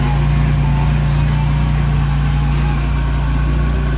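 A Porsche 911 Targa under restoration idles with a steady, loud, low engine drone that holds unchanged throughout.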